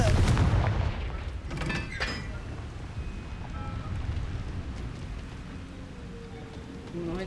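A Confringo fire spell blasts in Hogwarts Legacy with a loud booming burst at the start and a second crackling surge soon after, then fades into a low rumbling wash of game ambience.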